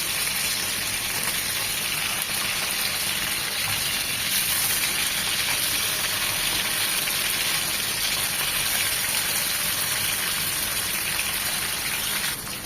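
Maini fish frying in hot oil in a pan gives a steady, loud, hissing sizzle that carries on unbroken, with no talk over it.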